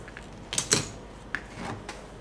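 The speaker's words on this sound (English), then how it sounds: "Cut the excess fabric" Scissors trimming excess cloth from a handmade fabric butterfly hair bow, a few quick, crisp snips close by in a quiet room.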